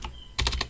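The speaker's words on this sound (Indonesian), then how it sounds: "Kemudian IP address-nya saya ketikkan" Someone types on a computer keyboard while entering network settings during a Proxmox 6.2 installation. A lone key tap is followed by a quick cluster of four or five close clacks. No one speaks.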